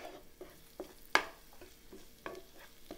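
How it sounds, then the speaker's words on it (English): A spoon stirs tomato paste into onions in a pan, giving soft scraping strokes at irregular intervals with one sharper knock of utensil on pan, over a faint sizzle and no voices. "mix nicely until the tomato paste it's mixed with the onions"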